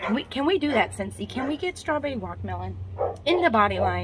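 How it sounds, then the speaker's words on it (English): A household dog barks in short yips somewhere in the background while someone talks continuously over it, her voice dominating throughout. "You might hear my dog's barking"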